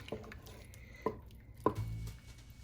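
Diced ham being stirred into a pot of broccoli potato soup, with a few soft wet clinks of a spoon against the pot and quiet squishing, spaced out and close by.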